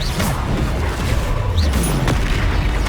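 An Expelliarmus spell cast in the Hogwarts Legacy video game, heard as a loud, dense burst of magical impact and crackling energy that fills the clip alongside rumbling booms.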